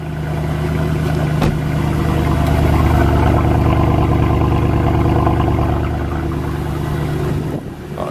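A Rolls-Royce Phantom engine warms up at idle, a steady low hum with mechanical harmonics holding evenly up close, with no talk, before the sound dips near the end.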